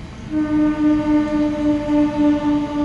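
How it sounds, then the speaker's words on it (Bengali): A passing train near Ghatshila sounds a loud, steady horn for about two and a half seconds, a sustained tone that cuts off sharply at the end, with no voices. "ট্রেন যাচ্ছে।"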